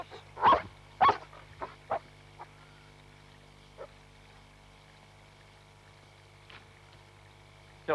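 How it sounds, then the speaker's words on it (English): Guard dogs bark a few loud, separate times early on, then give sparser, fainter barks, over a steady low hum. "But they're not pets, they're guard dogs."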